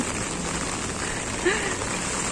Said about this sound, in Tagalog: Ang sarap ng ulan, ang sarap maligo sa ulan.